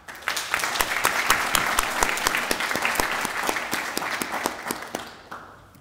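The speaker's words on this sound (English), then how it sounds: "For we would like to just give our graduates a round of applause." An audience applauds graduates at a college graduation ceremony, a steady dense burst of clapping from many hands that continues for about five seconds and then cuts off.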